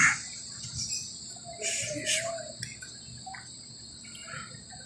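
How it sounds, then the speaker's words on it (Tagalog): Birds call at a cafe: a few short, high chirps cut through a steady insect-like drone, fairly close and moderately loud, with no one speaking. "nadidinig pa ninyo yung ibon"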